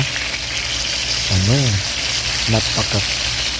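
Tuna fish frying in hot oil, a loud, steady sizzle that hisses through the whole stretch, with a voice speaking briefly over it midway and near the end.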